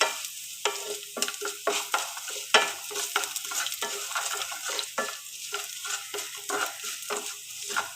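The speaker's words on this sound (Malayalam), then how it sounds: "വെളുത്തുള്ളിയും ജീരകം, ചെറിയ ജീരകമാണ്, ഒക്കെ ശകലം ചേർത്താൽ മതി." Garlic and small cumin seeds frying in oil, with a continuous bright sizzle and frequent quick spatula stirs scraping the pan, close and steady throughout.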